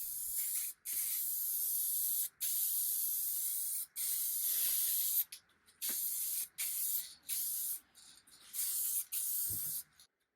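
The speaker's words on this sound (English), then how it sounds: "I gave it several coats of satin clear coat" Satin clear coat finish sprayed onto a restored old wooden stool in short, steady bursts of hiss separated by brief pauses, close and fairly quiet with no one talking.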